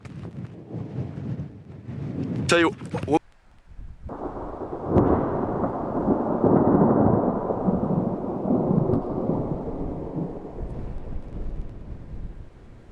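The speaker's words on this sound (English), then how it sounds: "the thunder is hitting pretty good too" Thunder from an approaching storm cell in the Nevada desert rolls as a long, deep rumble that swells and slowly fades. Wind buffets the microphone beforehand, and a few words are spoken briefly.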